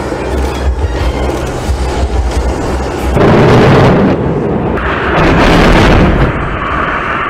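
F-5E/F fighter jets firing 2.75-inch rockets at an enemy artillery target during a South Korean live-fire military demonstration, a loud sustained roar with heavy rumbling bursts that swell and fade, no voices.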